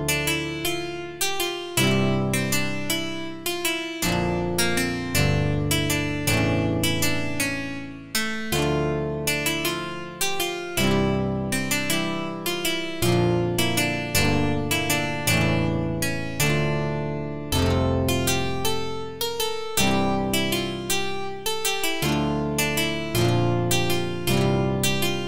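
A synthesized Ukrainian bandura made in FL Studio plays a continuous plucked folk melody, bright rapid picked notes over sustained low tones, loud and steady throughout without voices.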